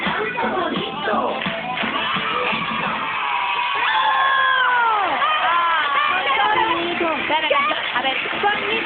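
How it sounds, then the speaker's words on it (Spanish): A studio audience on a Saturday variety show cheers and claps in a dense, steady crowd roar with whoops and yells, with rising and falling whistle-like tones mixed in. "Y el aplauso bonito."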